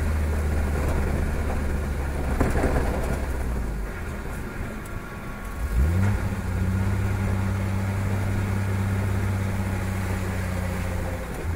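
A GM 110 V6 Vortec engine in a project car on its very first run, with a steady low rumble throughout and a rising rev partway through that settles into a stronger drone, recorded close with no talking.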